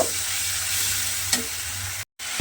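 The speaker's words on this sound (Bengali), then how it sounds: "দিয়ে এবার মশলাটাকে একটু খুব ভালোভাবে কষিয়ে নেব" Onion-based masala with tomato paste is stir-fried in a pan for a cauliflower and egg dish. A continuous, close sizzle carries on throughout, with a single stirring knock midway and a brief cut near the end.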